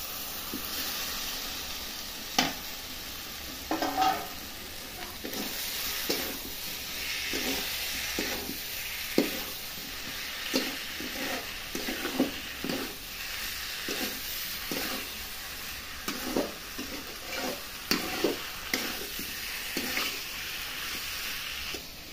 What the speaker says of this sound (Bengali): আমার আলু আর মশলাটা ঠিক ভাজা হয়ে এলো